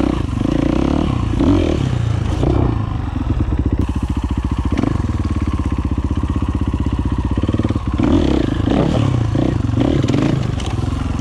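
A motorcycle engine, two-stroke or four-stroke, drives in first gear over an obstacle, a loud, close, continuous throttling drone with surges and rapid pulsing, plus some clatter and scraping as the bike climbs.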